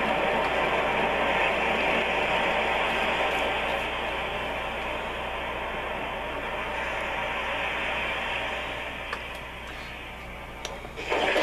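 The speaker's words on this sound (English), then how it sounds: "Surf's up." Surf setting on a Homedics Sound Spa Premier alarm clock radio: a steady, dense wash of ocean-wave noise playing continuously, swelling slightly and easing toward the end.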